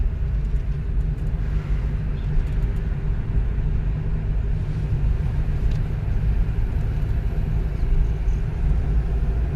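A car engine holds a steady low rumble during a driving lesson in Solan, with only faint, gradual revving and no distinct spikes, and no talking.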